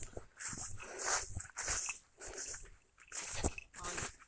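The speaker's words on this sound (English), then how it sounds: "There's another doggy. There's a dog" A dog nearby making short snuffling, grunting and mouthing noises in irregular bursts, fairly quiet, with small scuffles and movement in between.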